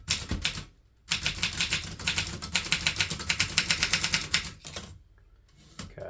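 Rapid clacking keystrokes come from a 1960s Groma Kolibri N vintage typewriter, typed close up in irregular bursts broken by short pauses, with no voices.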